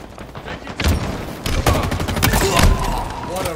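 Rapid bursts of weapon fire in Halo Infinite multiplayer, loud and close, with repeated sharp shots and thuds packed across a few seconds and a dense, crackling texture throughout.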